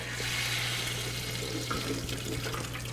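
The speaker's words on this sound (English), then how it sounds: "I'm going to dump the entire contents into the strainer." Au jus liquid with mirepoix poured from a pot into a kitchen strainer, a steady continuous rush of running liquid with faint splashes, close and unbroken throughout.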